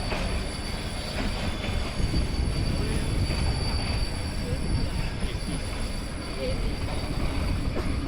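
A Nilgiri Mountain Railway toy train rolls into Ketti station, its wheels squealing loudly and steadily against the rails over a constant rumble of carriages, close by.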